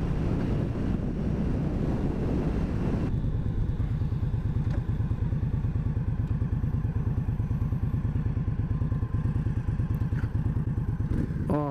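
A motorcycle cruising at highway speed in third gear, a steady, close engine drone with rhythmic low pulsing under heavy wind buffeting, continuous throughout and with no talk.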